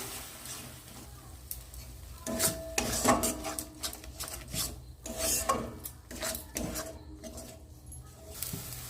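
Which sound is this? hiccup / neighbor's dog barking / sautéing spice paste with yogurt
sautéing spice paste with yogurt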